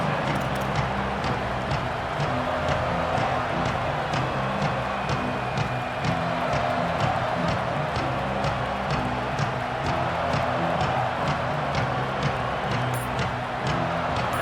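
A packed stadium crowd roars steadily in a college football video game, Cal visiting UCLA in a rivalry matchup. The dense wash of noise holds loud and constant throughout, with faint rhythmic clapping ticking through it.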